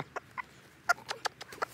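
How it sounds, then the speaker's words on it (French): Hardy Sussex hens cluck in a series of short, separate calls spaced irregularly. The birds are fairly close but soft, in a quiet setting, and no one speaks. "Alors, tout ça, ce sont des poules rustiques"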